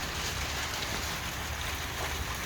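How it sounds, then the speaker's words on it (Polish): Dense, steady downpour hisses continuously, a broad wash of noise with no voices, in Nadrybie Wieś. "Dzięki za deszcz, Panie Boże."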